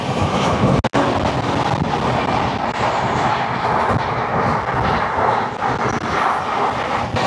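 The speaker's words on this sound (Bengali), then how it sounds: "চলে আসছে ট্রেন নম্বর 18612 বানারস থেকে রাঁচি এক্সপ্রেস" Train 18612, the Banaras–Ranchi Express, arrives with a loud, sustained rolling rumble close by, broken by one brief dip near the start.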